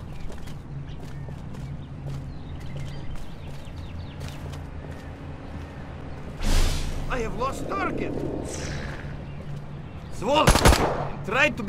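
Gunfire in the video game Destroy All Humans 2, sharp bursts rising over a steady game soundscape and character voices, with a couple of louder blasts toward the middle and end.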